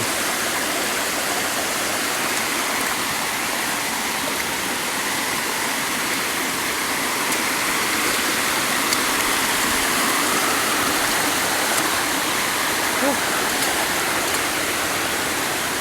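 Continuous rushing of flowing river water in Rodriguez, Rizal, Philippines, loud and steady from start to finish with no voices.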